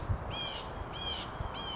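Crows mobbing an owl give three sharp, harsh caws in quick even succession over a steady outdoor hiss, fairly close and loud.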